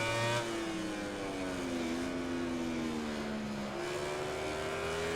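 A Suzuki racing motorcycle engine in MotoGP 19 howls continuously, its pitch gliding lower then stepping up after a gear change, loud and close with no talk.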